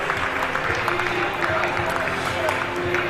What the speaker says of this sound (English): Songs start up again in the crowd